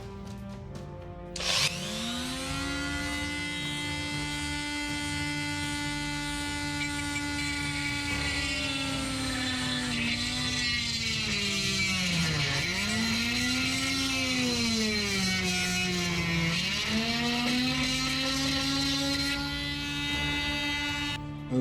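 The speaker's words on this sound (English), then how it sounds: "I'll use a Dremel." A Dremel rotary tool drilling holes in a Panamerican GT-R style car grille, with a high, sustained whine that starts abruptly and dips and recovers in pitch as the bit loads against the grille material, close and continuous.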